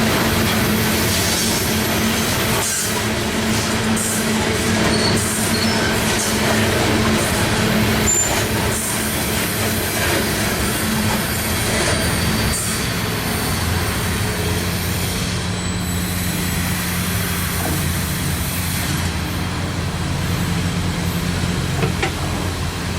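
Road Local A703 freight train departing Cartersville, Georgia, rumbling steadily past trackside with continuous wheel and engine noise, a few sharp clanks and a faint distant horn, no voices.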